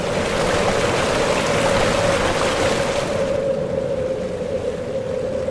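The Spiti river babbles and rushes in a steady, loud flow of water, continuous and close, with the hiss softening partway through.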